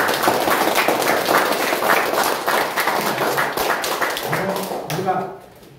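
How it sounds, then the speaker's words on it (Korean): An audience in a lecture hall gives sustained applause for YouTube reporters, a loud, dense patter of many hands clapping that carries on steadily before tapering off at the end. "우리 유튜브 기자님들한테 박수 한번 드리겠습니다"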